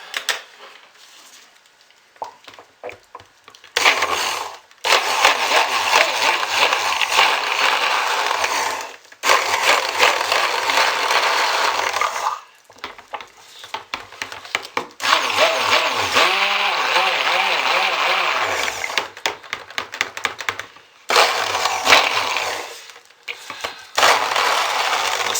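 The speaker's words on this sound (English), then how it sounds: "Stick blender is dying. This one is so old." An old, failing stick blender whirs in loud, uneven bursts as it blends purple soap batter, stopping and restarting several times with a rough, straining motor tone.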